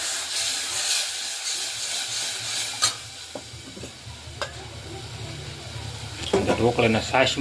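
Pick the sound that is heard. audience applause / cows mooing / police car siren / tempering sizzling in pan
tempering sizzling in pan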